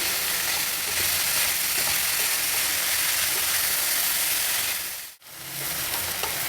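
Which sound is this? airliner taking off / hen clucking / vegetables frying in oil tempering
vegetables frying in oil tempering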